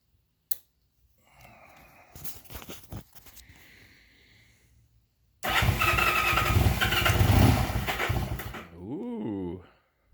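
Rebuilt Honda CL175 motorcycle started for the first time with the choke on: a click, a few cranking attempts and sputters, then the engine catches and runs loudly for several seconds before cutting off, with someone briefly talking nearby.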